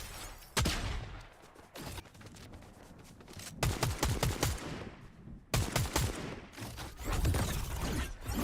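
Gunfire in a video game, sharp repeated bursts and rapid volleys in several clusters separated by short pauses, loud and close, with no talking.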